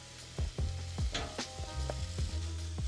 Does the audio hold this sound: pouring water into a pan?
no